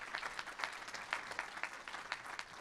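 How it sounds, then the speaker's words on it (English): Moderate crowd applause, steady overlapping claps at a distance, continuing evenly throughout without voices standing out. "Please give them a round of applause."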